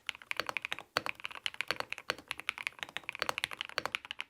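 Rapid, crisp clacking of a mechanical keyboard being typed on, steady uneven keystrokes close to the mic with no talking.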